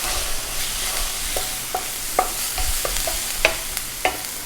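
Black beans sizzle in olive oil in a pan, with a steady frying hiss broken by a few sharp scrapes and taps of a spoon as they are stirred, close and alone.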